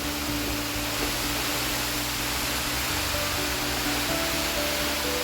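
A hidden waterfall dropping from a great height gives a steady, dense roar of falling water, loud and unbroken throughout, with a faint low hum underneath.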